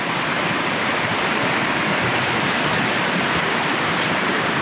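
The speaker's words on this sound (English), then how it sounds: "I hope the sound of the brook isn't drowning me out as I talk." Meshomaquett Brook in Meshomaquett State Forest, Connecticut, a small river flowing steadily with a loud, continuous broadband rush of water that stays even throughout, with no voices.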